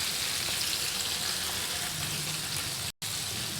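Chicken pieces being half-fried in hot oil, a dense, continuous crackling sizzle close by with no talk, broken only by a split-second gap.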